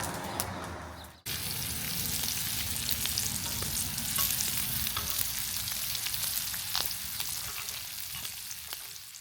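Breakfast frying in a pan over an outdoor campfire: a steady close sizzle with occasional scraping stirs, starting after a short quieter moment, with faint bird sounds behind it and no talking.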